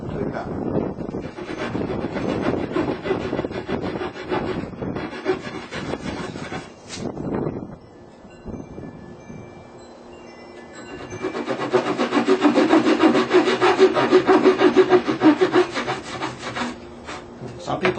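Close-up rhythmic rasping of a hand saw cutting fret slots into a wooden cigar box guitar neck, repeated back-and-forth strokes in bursts with a pause in the middle, then a longer steady run of sawing.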